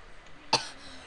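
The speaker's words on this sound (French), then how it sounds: "Je tousse un peu en ce moment" One brief, sharp cough from a man playing a Skywars game, close to the microphone over faint background noise.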